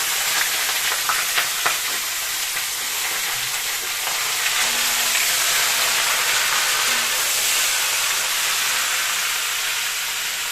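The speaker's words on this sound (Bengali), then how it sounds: "আওয়াজটাও বেশ হচ্ছে, কারণ তেলটা গরম হয়ে গেছে।" Mixed vegetables, including kohlrabi, peas, carrots, cabbage, spinach and beans, sizzle in hot oil in a home kitchen. The frying hiss is loud and continuous, with a few light clinks and stirring sounds early on.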